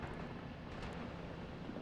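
A steady low engine drone of a WWII-era airplane passing overhead in a video game, with a brief swell midway and a constant rumbling wash throughout.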